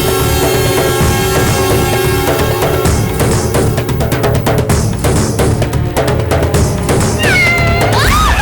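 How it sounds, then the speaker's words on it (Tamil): A cat meows loudly and repeatedly over dense, loud music in a Tamil television serial scene, the cries rising and falling near the end. "பூனை தானே, அதுக்கு எதுக்கு இப்படி கத்துற?"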